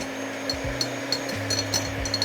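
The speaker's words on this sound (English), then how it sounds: "So put your whisk onto a low setting when you do this." A low-speed electric hand whisk beats meringue as sugar is spooned in, a steady close motor hum with a rhythmic scraping rub against the bowl.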